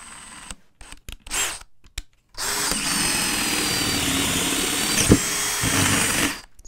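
Bosch Daredevil spade bit driven by a power drill boring through wood, a steady loud whirring grind lasting about four seconds after a few short clicks and bursts of handling noise.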